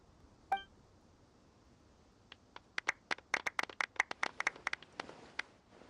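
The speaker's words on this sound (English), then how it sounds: "Let's give our champion Kaveh one last big round of applause." In the Genshin Impact award ceremony, a short chime sounds first. Then a light scatter of claps from a few characters builds into quick, sparse applause that stays fairly faint.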